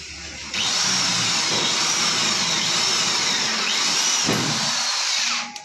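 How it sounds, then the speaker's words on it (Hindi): Electric drill boring a hole in a steel gate, a loud, steady high whine close up that holds for about five seconds before stopping. "तो आइए दिखाते हैं इसका होल कैसे करना है"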